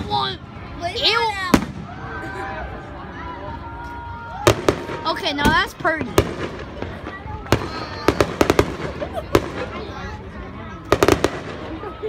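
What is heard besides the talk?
fireworks exploding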